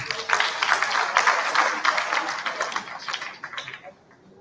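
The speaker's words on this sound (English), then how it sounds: "So you can clap for Taswin" Audience at a university lecture claps for a named participant, a short round of moderately loud applause with a murmur of voices that thins out and fades over the last second.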